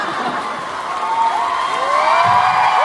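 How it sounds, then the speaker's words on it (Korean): Dense cheering and shouting from a crowd at a Korean band concert, loud and continuous, with whoops and some clapping mixed into a steady roar of voices. "지금 박수 치고 있을 거 아니에요?"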